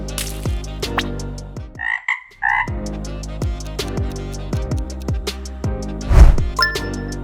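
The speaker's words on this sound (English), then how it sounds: "It's frog croaking." A frog croaks in a loud, close, repeated pattern of rough pulses, with scattered clicks and other short noises around it.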